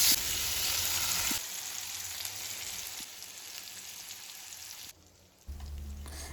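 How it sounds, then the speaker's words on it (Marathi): Masala-coated tambda fish frying in hot oil in a flat pan, a steady loud sizzle that drops softer midway, briefly fades almost away, then returns. "मसाला लावलेली मच्छी आहे ती या तेलामध्ये फ्राय करून घेऊया"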